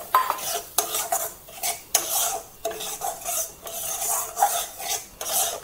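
Semolina frying and being stirred in hot ghee in a pan, with repeated scraping and rasping strokes of a spoon against the metal in a steady rhythm, close and moderately loud, with no voices.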